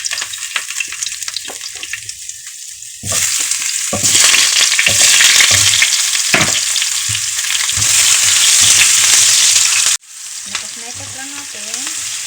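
Garlic and onion with pork sizzle and fry in a pan, with quiet stirring scrapes at first, then a loud steady sizzle that cuts out abruptly before quieter stirring resumes.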